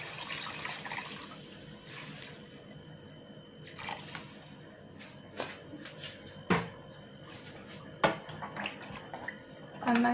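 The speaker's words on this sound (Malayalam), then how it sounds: "അതിലേക്ക് ഞാൻ എടുത്തു വെച്ചേക്കുന്ന 2 കപ്പ് വെള്ളം ഒഴിക്കുകയാണ്." Two cups of water poured into a pan of Kerala-style fish curry masala give a quiet, running splash and gurgle, followed by scattered light knocks and clinks of the pan and utensils.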